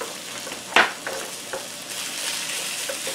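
Meat fries in a skillet over medium-high heat with a continuous crackling sizzle, broken by a sharp utensil knock early on and a few softer stirring scrapes, close and steady with no speech.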